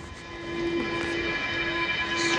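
Stockholm metro train running steadily, a continuous rumble with a sustained tonal hum and rising noise toward the end, close by and alone with no talk.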